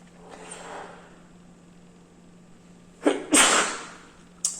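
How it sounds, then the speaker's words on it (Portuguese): One loud, close sneeze bursts out sharply after a few seconds of quiet room hiss, with a short second breathy burst right after it. "Espirrei aqui."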